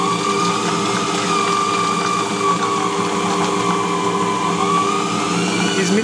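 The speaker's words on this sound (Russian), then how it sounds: "Измельчаем где-то 3-4 минуты." A food processor grinds sausage meat with cream into an emulsion for a 1956-standard children's sausage, giving a loud, steady motor whir that runs unbroken throughout with no talking.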